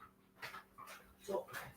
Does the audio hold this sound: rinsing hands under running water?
no